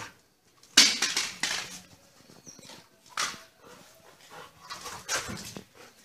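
A messy dog rummages and whimpers nearby, with bursts of scraping, clattering and panting across several seconds.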